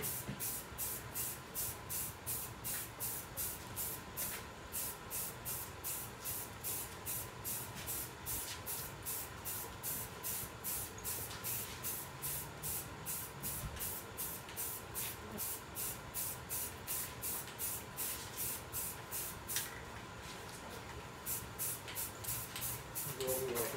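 Aerosol spray paint applied inside a subwoofer enclosure, close repeated hissing bursts in a steady on-off rhythm, with faint voices in the background.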